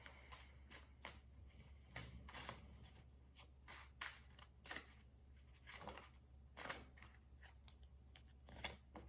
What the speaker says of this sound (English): 5 cards just fell out of my hand.